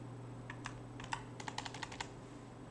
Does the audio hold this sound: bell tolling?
no